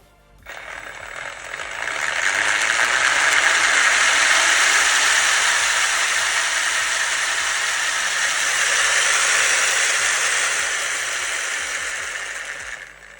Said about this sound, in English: it does work quite well, even if the 3D printed gears are quite grindy